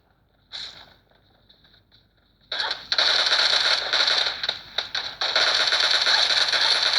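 Gunfire in PUBG Mobile played on a Tecno Camon 15 phone: a brief burst and a faint tone, then loud, sustained rapid shooting with short gaps, close and dense.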